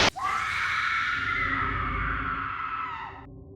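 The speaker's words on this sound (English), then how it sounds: "I don't like the scream." A sustained, shrill scream rings out loud and alone for about three seconds in the video game Lobotomy Corporation, then cuts off abruptly.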